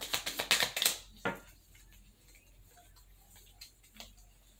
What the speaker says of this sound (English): A lot of time when I'm shuffling, when the cards just flip over like this